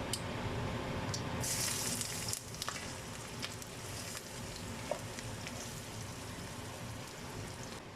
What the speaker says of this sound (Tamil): ஸோ நான் இப்போ கொஞ்சம் ஒனியன் போடுறேன்